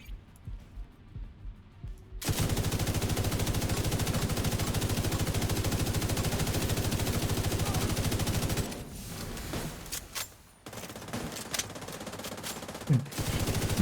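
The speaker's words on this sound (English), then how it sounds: "Unload a full mag and then you're stuck reloading for another full mag's worth of shooting." Automatic weapon fire in a video game roars in a long, continuous loud burst, then breaks into shorter stuttering bursts and scattered single shots, with no talk over it.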